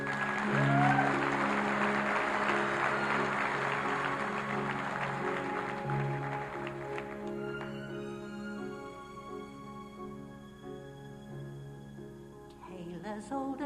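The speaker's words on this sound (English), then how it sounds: "Great round of applause." A live audience at a magician's stage show claps in a dense burst of applause that gradually fades as music with sustained tones rises beneath and takes over.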